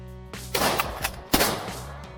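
Two sharp shotgun blasts about a second apart while hunting crows, loud and booming, with faint engine hum underneath.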